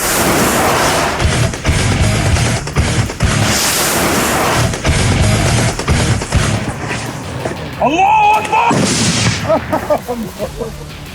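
Repeated gunshots, including a Kalashnikov machine gun, crack in bursts at a military shooting range, loud and close, with rapid volleys and brief pauses between them.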